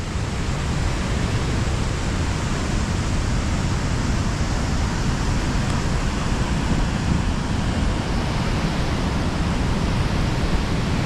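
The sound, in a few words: roar of water at Force waterfalls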